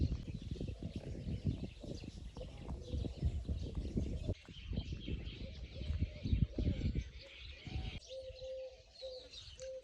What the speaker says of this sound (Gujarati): ચારે તરફ પક્ષીઓના કલરવ અને મોરના અવાજ